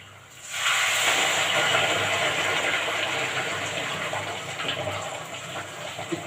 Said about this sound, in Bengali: জলটা আমি ঢেলে দিচ্ছি।